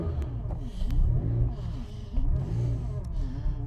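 A cold 1986 Ferrari 328 GTB engine fires up after sitting outside all day, settling into a rough idle with several rising and falling revs, loud and close.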